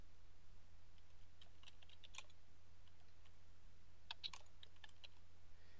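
Typing on a computer keyboard, faint scattered key taps and clicks in small clusters over a low steady hum, distant and soft, with no speech.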